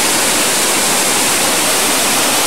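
Small waterfall in Slovenia, rushing water pouring in a dense, loud, continuous hiss heard close by, steady with no pauses.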